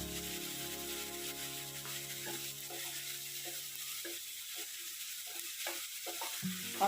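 Crown daisy greens stirred and fried in a pan: a soft sizzle that fades as scattered scraping and tapping strokes of a spatula come through, faint and close, with no talking.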